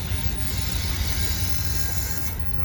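A commuter train slows while entering a rail yard, running over three or four crossovers at once, giving a steady, loud low rumble of wheels on track with a faint metallic hiss above and no distinct clacks.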